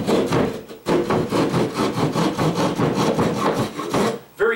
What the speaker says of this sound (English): drywall saws just do an excellent job of cutting long areas or cutting holes into drywall